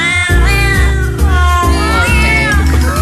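A loud recording of cats meowing in a sung melody, with sustained tonal cries following a tune over a steady low backing throughout.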